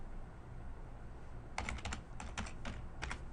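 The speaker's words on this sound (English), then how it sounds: "Let me type in debt." Keys clatter on a computer keyboard as a short search word is typed, a quick burst of clicks followed by a few more taps, faint against a quiet background hum.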